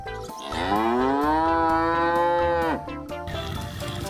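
A cow gives one long, loud, drawn-out moo that rises and then drops off sharply, followed by a few quieter knocks and rustles.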